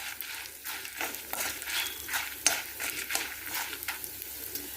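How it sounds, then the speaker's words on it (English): Red chilies and spices fry in a pan for a South Indian green chutney. A faint, soft sizzle is broken by repeated scraping strokes of stirring, with no voices. "So we have to fry all these things."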